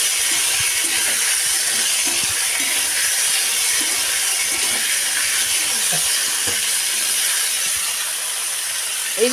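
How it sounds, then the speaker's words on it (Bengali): Potatoes frying in a pan as they are stirred make a constant bright hiss, loud and close, with soft clinks and scrapes from the spatula underneath. "এখানে দিয়ে দিলাম আলুগুলো, দিয়ে এখানে নাড়াচাড়া করে ভেজে নেব।"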